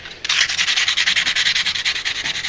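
Rapid back-and-forth hand sanding rubs an overlay on a bow tip in short rhythmic strokes, about a dozen close, scratchy passes at steady pace with no talk.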